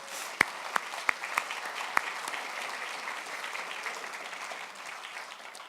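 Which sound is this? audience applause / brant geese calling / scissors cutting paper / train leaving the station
audience applause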